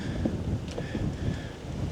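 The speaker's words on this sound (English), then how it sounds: "Very windy tonight" Strong wind rushes across a waterside campsite at a Florida state park, a steady, low, blustery noise against the microphone with small gusty swells and no voices.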